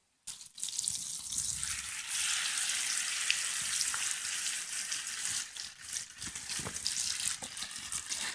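Butter sizzles loudly in a pan over a campfire-side stove while camping, starting abruptly and hissing steadily up close, with small crackles and spits breaking through.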